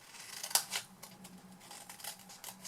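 Scissors snipping through paper tabs of a hand-stamped gift box, a few sharp close cuts with one loud snip early and softer snips after, no talking.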